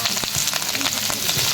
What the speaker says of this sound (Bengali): আমি এগুলোকে গরম তেলের মধ্যে আমি ফুলকপিটা হালকাভাবে ভেজে নেব।